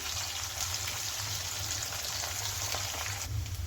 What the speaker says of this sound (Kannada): ಅಲ್ಲಿವರೆಗೂ ಎಣ್ಣೆಯಲ್ಲಿ ಇದನ್ನು ಹುರ್ಕೋಬೇಕಾಗುತ್ತೆ. ಇದ್ರ ಜೊತೆಗೇ ನಾನು ಸ್ವಲ್ಪ ಕರ್ಬೇವಿನ ಸೊಪ್ಪನ್ನು ಹಾಕ್ಕೊಳ್ತಾ ಇದ್ದೀನಿ